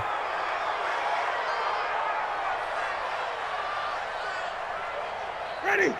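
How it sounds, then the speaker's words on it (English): Home crowd in Madden NFL 20 applauding at a Bucs game, a steady wash of distant stadium applause and cheering throughout, rising briefly near the end. "And the home crowd applauding"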